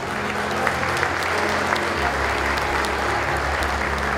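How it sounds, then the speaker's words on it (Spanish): Sustained, loud audience applause fills a graduation ceremony hall, steady and dense throughout with a low music or hum underneath. "Fuerte aplauso de los presentes."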